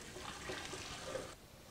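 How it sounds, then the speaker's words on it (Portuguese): Boiling water poured into a blender for strawberry gelatin ice cream, a steady hissing liquid pour lasting over a second before stopping abruptly, fairly quiet and heard alone. "Vou colocar no liquidificador água fervendo,"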